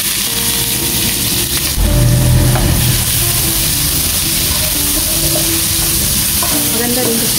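Onions sizzling in hot olive oil in a pan, a steady loud frying hiss with a brief louder burst as they go in, stirring continuing throughout with no talk.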